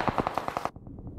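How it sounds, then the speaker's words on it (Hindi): Rapid bursts of automatic gunfire in the PUBG Mobile shooter game, a quick string of loud shots that stop abruptly and give way to softer, more muffled shots. "पीछे से कोई मुझे गोलियां मारने की कोशिश कर रहा है गाइस"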